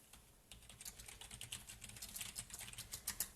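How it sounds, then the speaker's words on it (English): Rapid typing on a computer keyboard during a live craft stream, with a steady run of close, crisp key clicks alone and no talking. "Glad I've got my keyboard to hand."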